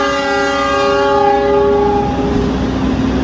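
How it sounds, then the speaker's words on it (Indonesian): Purwojaya passenger train arriving at Cirebon Kejaksaan station, a loud sustained multi-tone horn blast that ends at about two seconds and gives way to close rumbling wheels and clattering rails. "kereta api Purwojaya masuk di jalur 3 stasiun Cirebon Kejaksaan"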